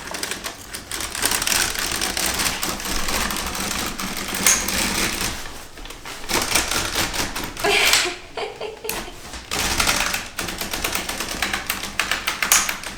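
A knitting machine works a cardigan with rapid, rattling clatters as the carriage sweeps back and forth in repeated passes, close and loud, broken by short pauses.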